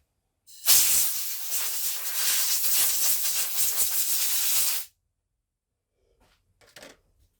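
Compressed air blasts across the float bowl of a Mountfield SP536 lawnmower carburettor after long storage, a loud close hiss lasting about four seconds, then a couple of brief faint puffs.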